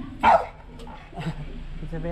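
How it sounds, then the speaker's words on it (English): A dog gives a single sharp bark close by, with people talking briefly afterward. "It's a very nice dog."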